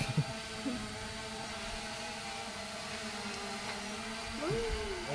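A small camera drone hovers close by, giving off a steady, even whirring hum that holds for about five seconds, with a slight pitch bend near the end.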